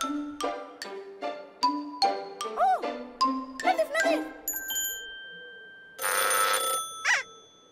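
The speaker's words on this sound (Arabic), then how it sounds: "هاتف الطوارئ." An emergency telephone in a children's cartoon rings out in a series of bright, bell-like dings that climb and fall in pitch. Cartoon voices break in among the chimes, and the clip ends with a longer, buzzier ring.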